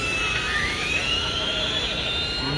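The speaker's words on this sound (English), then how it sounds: "Nice side-by-side drag race." Radio-controlled Pro Street drag cars race side by side at a drag strip, a loud continuous high-pitched electric motor whine that sweeps upward in pitch over a couple of seconds.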